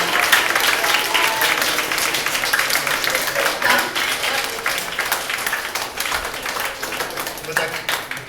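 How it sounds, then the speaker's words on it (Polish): Parents and pupils give steady, dense applause after a school nativity play (jasełka). The clapping is close and continuous, with brief voices mixed in. "A my bijemy brawo."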